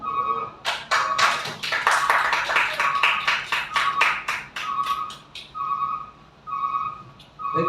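A small audience applauding after a teacher's presentation, with scattered, uneven hand claps that thin out toward the end, heard over a steady faint high tone, with no one speaking.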